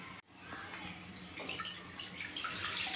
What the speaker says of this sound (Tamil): நம்ம தண்ணி ஊற்றிக்குவோம்.